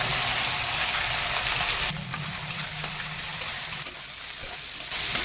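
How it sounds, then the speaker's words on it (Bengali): Live prawns fry in hot oil for a Bengali fig and prawn dish, a loud close sizzle that drops a little partway through and then continues with crackling bursts, with no talking. "এই চিংড়ি মাছগুলো আমি তেলের মধ্যে দিয়ে দিচ্ছি ভেজে নেব"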